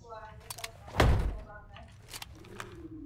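A door in the tactical shooter game Ready Or Not gives one heavy thud, followed by fainter clicks and shuffles, with a voice speaking briefly.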